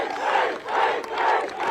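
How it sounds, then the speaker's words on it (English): A huge crowd of Norwegian fans at a FIS Freestyle World Cup event cheers and roars, swelling in waves that stay loud and sustained throughout. "Here comes the huge cheer from the Norwegians."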